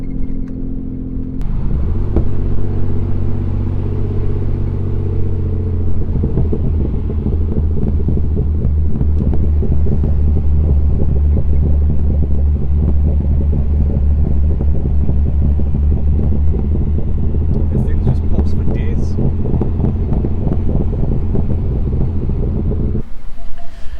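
A Nissan 300ZX project car drives along a straight road, its engine starting up and settling into a loud, steady low rumble with some wind buffeting, then cutting off near the end.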